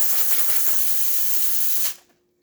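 Steam wand of a Rocket R58 espresso machine blasting a steady, loud hiss of steam for about two seconds, then cutting off abruptly and leaving near silence with a faint tone.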